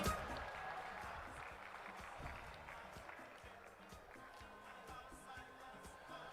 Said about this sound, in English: Can we cheer her on? Can we celebrate her?